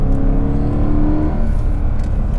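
A Mercedes W204 C63 AMG V8 engine growls and revs loudly up close, a deep rumbling throb that rises briefly then settles.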